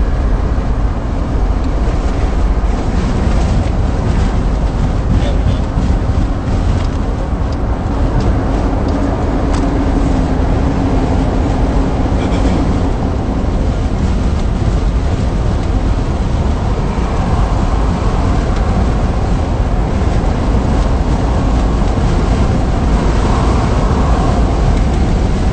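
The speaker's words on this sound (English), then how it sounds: "it's a little aggravating hearing the wind coming through my truck like this" Wind rushes and roars through a broken-into truck on the move, a constant close buffeting layered over road rumble that goes on steadily throughout with no talking.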